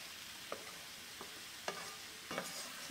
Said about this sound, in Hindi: और मैं अच्छे से एक बार और मिक्स कर लेती हूँ इसे